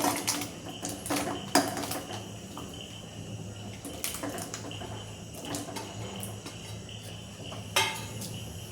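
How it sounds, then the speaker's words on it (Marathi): Chopped vegetables drop into a pot of water, making faint intermittent knocks, clatters and light splashes against a quiet background hum. "पातेल्यात पाणी टाकले, आता आपण या भाज्या टाकून घेऊ सगळे"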